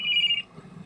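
A mobile phone rings in a TV show scene, giving a brief bright electronic trill for under half a second over a low background murmur.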